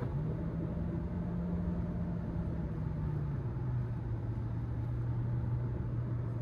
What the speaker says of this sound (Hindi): गाड़ी की आवाज सुनो एक बार,